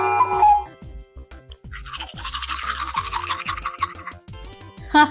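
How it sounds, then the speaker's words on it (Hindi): Steady scrubbing of a toothbrush on teeth for a few seconds, a close, bristly rhythmic rubbing between brief other sounds. "ये तो ब्रश की आवाज है।"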